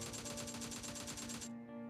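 An AKM rifle in PUBG Mobile fires a rapid automatic burst of about a dozen evenly spaced, loud shots for about a second and a half, then stops abruptly.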